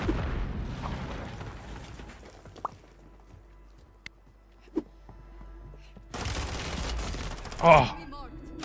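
Gunfire crackles through a Warzone match, a few sharp shots standing out over low background noise, then a loud grenade blast erupts near the end with a burst of debris and rumble.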